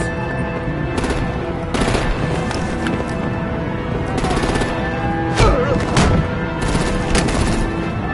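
Gunfire from the video game Batman Telltale episode 2 bursts out in loud, rapid volleys of shots and booms, repeating through the scene with some game dialogue between them.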